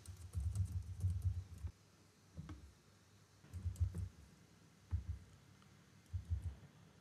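Typing code on a computer keyboard: quiet close key clicks in several bursts of rapid tapping separated by short pauses, with no talking.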